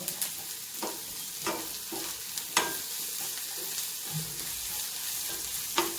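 Curry leaves sizzling in hot oil in a pan for a Kerala-style chicken curry, with a soft continuous fry broken by intermittent scrapes and clinks of stirring.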